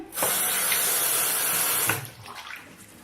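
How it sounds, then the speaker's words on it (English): Water gushes steadily from a tap for about two seconds, then cuts off, leaving a quieter wet trickle and small splashes. "Then I add a little water."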